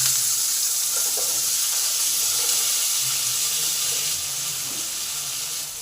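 Potato pieces go into hot oil with fried cumin seeds and green chillies, giving a steady, close, bright sizzle with faint stirring. It runs without talk throughout.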